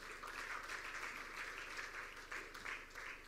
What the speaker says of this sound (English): I believe your clapping is adoption by acclamation